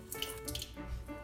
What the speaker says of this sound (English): When I'm measuring this water out of the sink